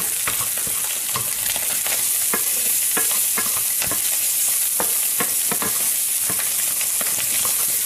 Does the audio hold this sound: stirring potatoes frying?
yes